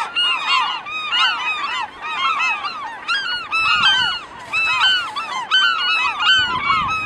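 Loud, continuous harsh honking calls from birds overlap densely near a colony of elephant seals on a rocky shore, with no talking.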